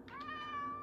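A cat in the video game Minecraft gives a single short meow, clear and near, rising then holding a steady tone against a faint background hum.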